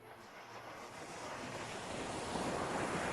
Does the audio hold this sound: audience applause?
no